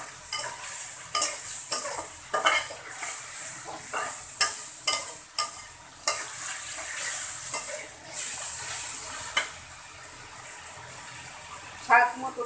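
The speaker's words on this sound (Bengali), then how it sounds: "এখন আদা রসুন পেস্ট দিয়ে দিলাম পরিমাণ মতো।" Ginger-garlic paste sizzles in a pan with chicken and browning chopped onion, a steady close frying hiss broken by repeated scrapes and clinks of a stirring spoon.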